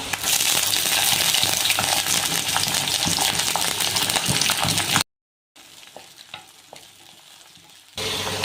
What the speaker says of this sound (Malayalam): ഇതിലോട്ട് നമുക്ക് നീളത്തിലരിഞ്ഞ ഇഞ്ചി ചേർത്ത് ഇതിൻ്റെ കൂടെ തന്നെ വെളുത്തുള്ളി ഇട്ട് കൊടുക്കാം